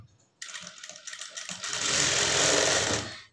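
An electric sewing machine stitches the lining of a blouse. A few light clicks lead into a steady, rapid mechanical whirr that builds and holds for a few seconds, close by, with no talking.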